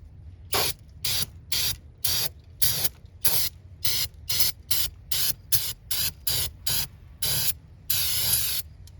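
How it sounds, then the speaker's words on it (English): Brake cleaner sprayed in about fifteen short, sharp bursts onto fuel pump parts of a 1991-2003 Ford Escort, each hiss loud and close, separated by brief silences, with no talk. "I got some brake clean right here."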